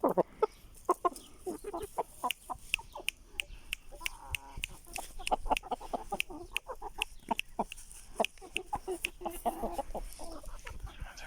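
Chickens cluck and squawk close by in a lively, busy coop, with sharp repeated calls from agitated Aseel roosters and hens overlapping throughout.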